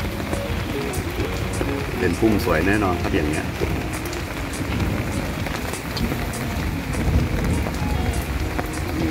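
Rain patters steadily over an adenium garden while a man walks through it and talks over the continuous, close downpour.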